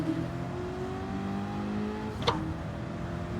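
Race cars in Gran Turismo 7 hum with steady engine drone, one rising in pitch as it revs, with a brief sharp whoosh of a car passing close near the end.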